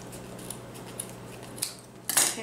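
Scissors snip through a length of cord for a Dollar Tree welcome sign craft, a few faint clicks and a sharper closing cut near the end, heard close and quiet.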